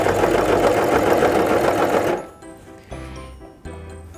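A Brother CV3550 coverstitch machine sews fabric with a loud, fast, steady mechanical chatter that stops abruptly partway through, followed by a few quieter clicks and short bursts of the mechanism.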